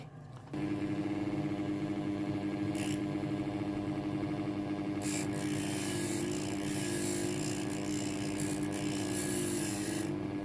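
A rough end is worked into a smooth ball shape during a Tasmanian blackheart sassafras OM guitar build. The continuous grinding, rasping whir holds steady for about ten seconds, close and uninterrupted.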